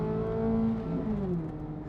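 A Corvette Z06's flat-plane crank V8 wails loud and close on a racetrack, its exhaust note rising and falling through a sustained high-revving run with a shift partway through.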